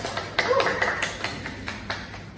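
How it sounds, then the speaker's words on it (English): Students in an international classroom give a classmate a short burst of applause: a handful of light, irregular handclaps at moderate distance, with faint voices underneath. "Please give David applause guys"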